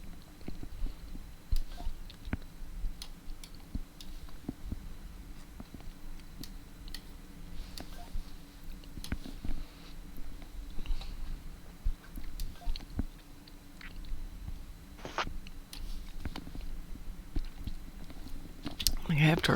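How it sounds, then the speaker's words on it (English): Crunchy chewing picked up close on a headset microphone, with steady irregular bites and crunches repeating throughout, soft and near, over a faint background hum. "I have no idea how much is going through the microphone of crunch, crunch, crunch, crunch, crunch."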